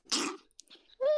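A person sneezes once, a sharp loud burst at the start, followed by small breathy sounds and a short vocal noise at the end.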